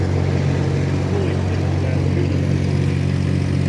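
A generator at the SEMA 2024 show runs loud and close with a steady low droning hum and constant engine rumble, with a person talking over it.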